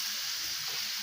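Remaining onion pieces drop into a hot frying pan of minced meat and onion, giving a steady, close, even sizzle with no talk.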